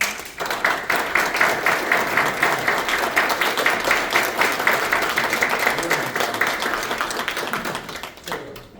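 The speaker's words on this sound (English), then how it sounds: "I think they deserve a round of applause." An audience at a Plant City city commission meeting gives a sustained round of applause, dense steady clapping from a roomful of people that builds quickly, holds for several seconds, then fades out.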